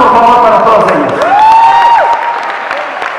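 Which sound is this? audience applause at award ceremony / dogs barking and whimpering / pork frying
audience applause at award ceremony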